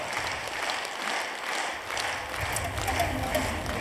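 An audience claps at a gathering in Kyrgyzstan, a dense, steady burst of applause lasting throughout, loud and close, with faint crowd noise and voices underneath.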